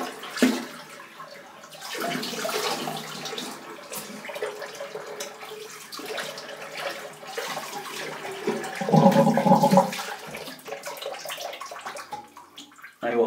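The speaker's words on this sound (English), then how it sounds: "let me just rinse this a little bit" A Gillette Aristocrat safety razor is rinsed under running tap water, uneven splashing and flowing water in bursts, close by, with a brief louder gush.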